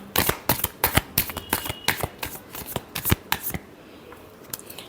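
Tarot cards being shuffled by hand: a rapid run of crisp riffling snaps and flutters, close and fairly loud, tapering to a few soft taps at the end.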